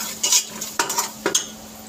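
Dry coriander seeds and a few black peppercorns roasting in a dry pan, heard as a few short scraping stirs and light rattles over a faint low hum, close and alone.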